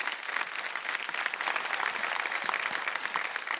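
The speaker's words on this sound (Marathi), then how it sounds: "अभिनेते तेजस बर्वे यांच्यासाठी एकदा जोरदार टाळ्या झाल्या पाहिजे" An audience at a kirtan competition show applauds actor Tejas Barve with dense, sustained clapping that stays loud and even throughout.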